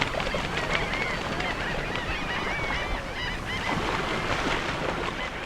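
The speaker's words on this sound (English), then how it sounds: "At twilight, great flocks of birds disturb the reigning peace at the edge of the mangrove" Great flocks of aquatic birds clamor at twilight along the edge of a Cuban mangrove forest, a dense overlapping chorus of honking and squawking calls, near and far, over a steady background wash with no talking.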